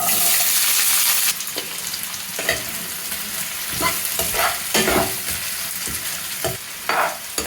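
Sliced onions hitting hot oil with turmeric for chicken curry, a loud, dense sizzle that roars at first and then settles into a steady crackle with intermittent stirring scrapes.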